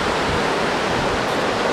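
A waterfall in Yoho Park roars as a dense, steady rush of broadband noise, loud and continuous, with no voices heard.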